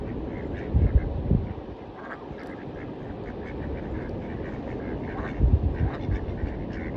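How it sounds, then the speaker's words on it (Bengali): Ducks on a lake quacking close by in repeated bursts, some louder clusters standing out over a steady outdoor background, with no talk. "দেখেন হাঁসগুলো আমার দিকে এগিয়ে আসতেছে"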